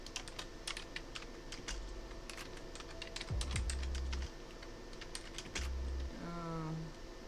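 Rapid clicking of fingers typing on a computer keyboard, steady and close, with a few low thumps and a brief tonal chirp near the end over faint background noise.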